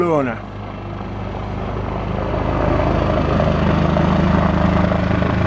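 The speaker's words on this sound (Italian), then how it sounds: "piena notte, sopra casa mia, gli elicotteri in perlustrazione su Valle" Helicopters patrol over a house in Valle at night, their engine and rotor drone a loud, continuous roar that swells gradually and stays steady throughout.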